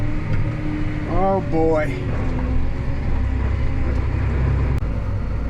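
A tractor pulls a peanut cultivator in 10th gear while struggling and weak. Its engine drones low and steady throughout, and someone briefly speaks over it.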